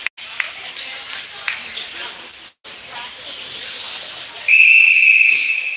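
A referee's whistle at a high school hockey game during a holiday tournament sounds as one sharp, steady shrill blast near the end of the clip, after a stretch of noisy arena crowd murmur.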